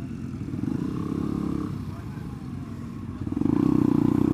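A small 125cc motorcycle rides along with a steady low engine drone that eases off mid-way and then swells louder near the end, heard close with wind rumble.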